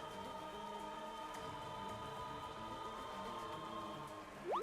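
Steady rain pattering throughout a Pokémon Sword & Shield battle, a constant soft hiss with faint game music tones beneath, ending with a brief rising chime.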